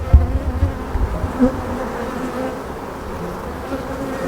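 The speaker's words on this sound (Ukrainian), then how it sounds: "Бджілка, котра вилупляється." Honeybees buzz on a brood frame in a hive, a steady, close, dense hum with a few louder bumps and handling noises early on.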